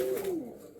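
A domestic pigeon being shown as a standing pair at a pigeon sale gives a single close, clear coo that slides downward and fades, with faint room noise behind it.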